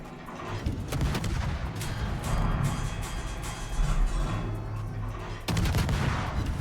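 Warship guns firing in the naval game World of Warships, a dense rumbling barrage of repeated booms and blasts that runs almost continuously, with a fresh loud salvo near the end.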